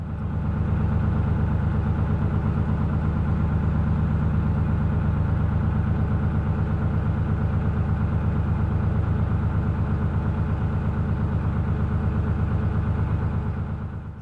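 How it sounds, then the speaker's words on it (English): A narrowboat engine ticks over at idle while crawling along a busy canal at Fenny Compton, a steady, close, low throbbing rumble that runs evenly throughout with no voices. "I am, of course, crawling past these boats really slowly on tickover."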